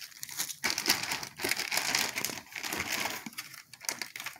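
Ziploc plastic bags are handled up close, crinkling and rustling in a busy, irregular stream of crackles that rises and falls for several seconds without any speech.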